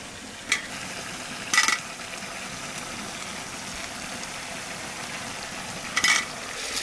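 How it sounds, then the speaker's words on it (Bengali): Mutton being stirred with potatoes in a cooking pan for a Bengali goat-meat curry, a steady low sizzle broken by a few short scraping stirs of the spatula. "মাংসটা প্রায় কষানো হয়ে গেছে, আলু দিয়ে একটু ঘাটিয়ে জল দিয়ে দেবো।"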